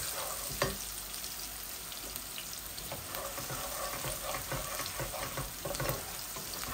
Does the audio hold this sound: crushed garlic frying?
yes